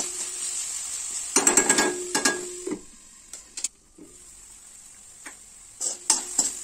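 Tomato and vegetables sizzle in a pan as a spatula stirs them, giving bursts of close scraping and clanking over a steady hissing frying sound. The bursts are loud and come in a couple of clusters, with quieter sizzling between them.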